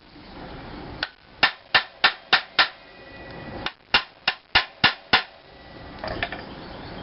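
A hammer taps a crankshaft bearing into place with crisp, dry metallic strikes: a quick run of six, a pause, then five more, fairly close and alone.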